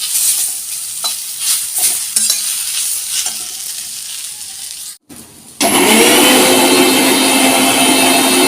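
Food frying in a pan in a home kitchen, with stirring clatter at first. After a brief pause, a loud, steady sizzle fills the rest of the clip.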